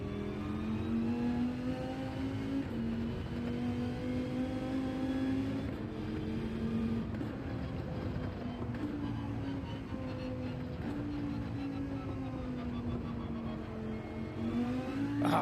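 A race car engine in Gran Turismo 7 lapping the Deep Forest circuit, revving hard with a loud, continuous whine that rises and dips through gear changes and corners.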